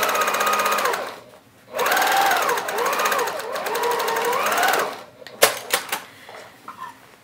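A sewing machine stitches a tote bag lining in two steady, rapid mechanical bursts with a short pause between, then stops, followed by a few handling clicks and knocks.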